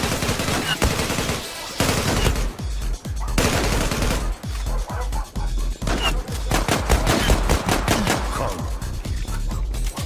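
Dense, rapid gunfire from the online shooter Zula, bursts of automatic fire and single loud shots cracking one after another almost continuously, loud and close throughout.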